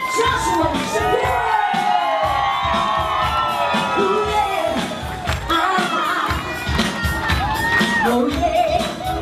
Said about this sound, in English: Let's have a nice round of applause for Mr. and Mrs. Joshua Shapiro.